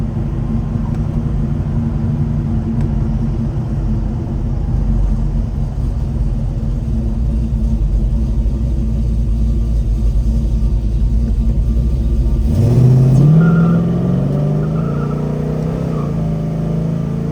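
A 1970 Chevrolet Chevelle V8 drones steadily at cruising speed around 60 mph, a loud low rumble filling the cabin, then the note drops and climbs again as the transmission shifts up partway through.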